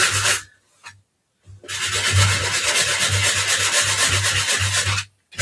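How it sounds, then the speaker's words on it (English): Sandpaper rubs back and forth against the edge of a plaid paper craft piece in short, raspy strokes, a brief pause between early passes followed by a longer continuous scuffing run up close. "we'll bring in a little bit of sandpaper with the plaid and just scuff away"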